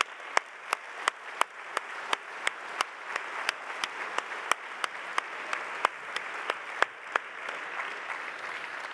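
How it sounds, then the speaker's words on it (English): Audience applause for the competition winners at the finals of a hackathon challenge, a steady wash of many hands clapping for the full stretch, fairly loud and even with sharper individual claps standing out, no talk over it. "Big applause."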